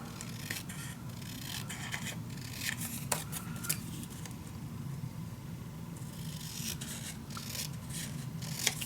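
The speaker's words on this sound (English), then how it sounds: "so I'm just going to cut it off" Scissors snip off a dark brown edge from a piece of paper while making a winter mini album, giving a run of close, crisp cutting and rubbing strokes over a steady low background hum.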